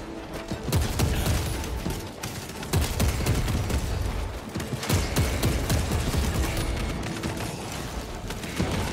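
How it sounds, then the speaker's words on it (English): Enemy gunfire in Warhammer 40K Space Marine 2: loud, close bursts of rapid shooting with heavy booming impacts, coming in waves with brief lulls and almost no talk. "There's someone shooting at us from somewhere."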